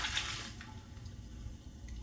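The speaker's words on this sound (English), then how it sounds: "And then we're going to pour in our liquid." Liquid poured into a well of dry batter mix for Vietnamese steamed cakes, a steady trickling splash that runs continuously near the microphone, with soft kitchen hiss and no talking.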